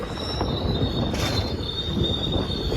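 A Kashmir snow train on the Banihal to Srinagar line arriving at a station, its wheels squealing steadily with a high, continuous metallic screech over a loud rumble of rolling railcars close by.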